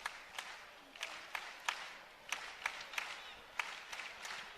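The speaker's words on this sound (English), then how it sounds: "Crowd getting into it here." An arena crowd at a college men's wrestling dual between Iowa and Ohio State claps in a steady rhythmic beat, the sharp hand claps repeating at an even pace and sounding somewhat distant.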